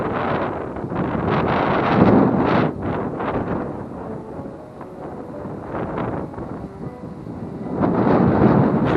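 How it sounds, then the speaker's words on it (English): Strong wind buffeting a microphone beside a fishing canal: heavy low rumbling gusts that swell, ease off in the middle, then surge again at the end, loud and close with no speech. "I hope you can hear me over this wind."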